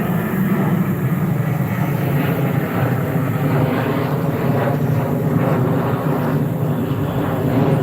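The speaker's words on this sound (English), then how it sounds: "Lots of plane activity." A fixed-wing airplane drones steadily overhead near a river bridge at a wildlife refuge, a loud broadband engine roar that holds constant throughout with no other sounds standing out.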